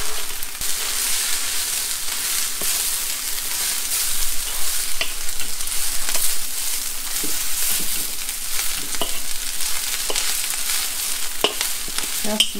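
Pad Thai noodles with tofu, dried turnips and cabbage being stir-fried in a hot pan: a constant loud sizzle broken by scattered scraping and tossing clicks from the spatula, with no talking.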